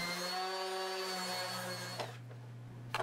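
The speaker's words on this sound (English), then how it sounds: "sanding." Power sanding on wood, a steady droning whir held near and loud for about two seconds before it cuts off and spins down into quiet.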